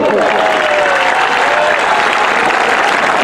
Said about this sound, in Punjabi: ਤਾੜੀ ਮਾਰ ਕੇ ਦੱਸੋ